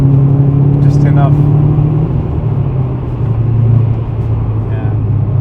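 Subaru Impreza WRX with an upgraded exhaust driven hard, its engine rumble loud and steady, dipping slightly midway and swelling again, with speech over it throughout.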